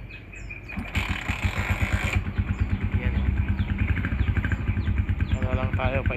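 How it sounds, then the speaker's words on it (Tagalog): A motorcycle engine idles as it warms up outdoors in a rural provincial setting, a steady rapid putter under occasional talk, with faint bird chirps in the background. "painitin natin tong motor"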